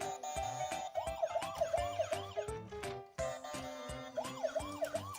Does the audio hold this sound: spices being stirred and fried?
no